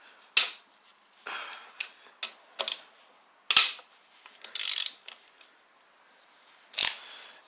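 A ratchet wrench turns a 12 mm bolt on a Toyota engine during a rebuild, giving short irregular bursts of crisp, close clicking separated by pauses, with no talking.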